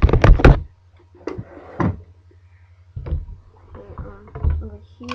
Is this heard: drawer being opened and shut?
yes